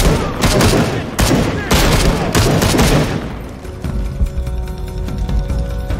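Assault rifle gunfire in Shadow of the Tomb Raider, loud dense bursts of rapid shots for about three seconds, then dropping to scattered quieter pops and a lingering tone.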